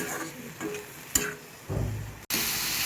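Snake gourd sautés in a pan with a soft intermittent sizzle, a few clicks and scrapes from stirring, and a louder burst of frying toward the end.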